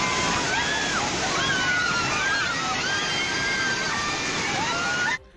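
A fast river current sweeps a motorcycle rider and his bike downstream, a loud continuous sloshing rush of water with tonal voice traces over it.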